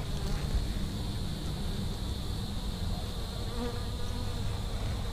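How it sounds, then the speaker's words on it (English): A dense, droning buzz of many honey bees in a hive fills the air close by, constant and humming without pause. "There's gonna be a lot of bees in there."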